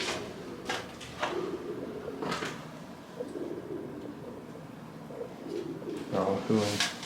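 Pigeons cooing inside an abandoned hotel infested with birds, soft repeated coos through a quiet, echoing space, with scattered sharper bird calls and some movement noises.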